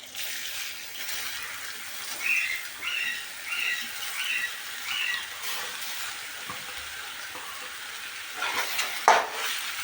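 Grated bottle gourd sizzling in a hot pan for halwa, a soft continuous hiss with gentle stirring scrapes and a couple of louder clinks near the end, close and without talk.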